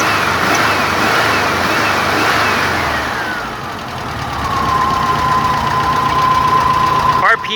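A car engine fitted with a freshly repaired 44 IDF throttle runs at a steady, loud mid-pitched idle, the revs dipping and settling into an even hum, with a brief sharp clatter near the end.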